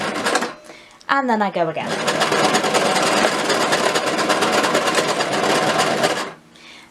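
Sewing machine running a straight stitch then reversing over elastic, a loud continuous rapid whir lasting several seconds with a brief start beforehand and a pause at the end; a person talks briefly at the start.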